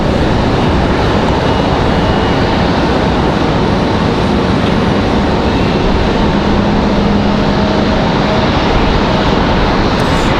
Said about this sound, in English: Looks like our 777. Slowly taxiing out here